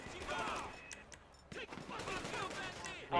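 Gunfire in GTA Online, a loose run of faint shots and bursts sitting under the players' voice chat.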